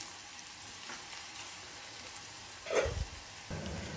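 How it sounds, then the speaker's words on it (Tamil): Crushed garlic frying in oil until golden brown for a garlic spinach dish, a faint continuous crackling sizzle with a brief stir or scrape near the end, close and fairly quiet, no talking. "கொஞ்சம் நல்லா கோல்டன் ப்ரௌன் வர வரைக்கும் நம்ம வந்து வறுத்துக்கலாம்"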